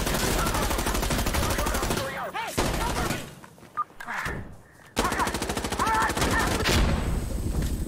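Rapid bursts of automatic gunfire in the multiplayer shooter game Sandstorm, loud crackling volleys broken by a short lull, with faint voices talking underneath.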